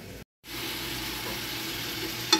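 Spices frying in a pan for an Arabian mutton dish: after a brief moment of silence, a steady sizzling hiss rises and holds, ending in one small clatter.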